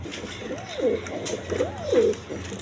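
Red shirting pigeons give two close, throaty cooing calls about a second apart over low background noise.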